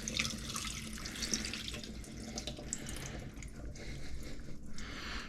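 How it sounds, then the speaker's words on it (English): Tap water runs into a dish in a kitchen sink while bay scallops are rinsed, a continuous close splashing stream that rises and falls slightly and is heard alone without talk. "So I'm just gonna fill the dish up with a little bit of water and mix them around and then drain it."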